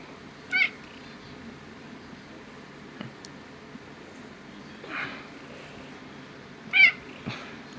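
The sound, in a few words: cat meowing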